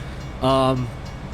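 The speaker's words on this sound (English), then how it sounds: "the train is literally over there" A train horn at a railroad crossing in American Truck Simulator sounds a single long, steady, loud blast of just under half a second, set over a low game-engine rumble, with a voice talking nearby.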